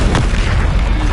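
The Confringo blasting spell explodes in Hogwarts Legacy, a loud close boom with a dense burst that rumbles through the whole short moment.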